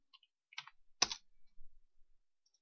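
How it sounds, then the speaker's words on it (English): Typing on a computer keyboard, a few sparse quiet key clicks with one sharper press, close and isolated in near silence. "I type it in"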